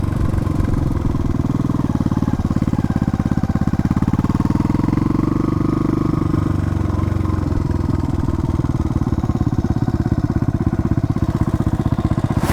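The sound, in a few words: Yamaha bobber motorcycle engine running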